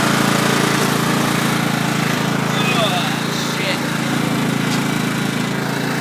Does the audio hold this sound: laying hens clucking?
no